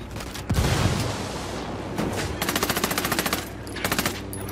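A grenade bursts in a loud blast in the video game Ghost Recon Wildlands, then sustained rapid automatic gunfire rattles in two fast bursts, close and dominant with no talk.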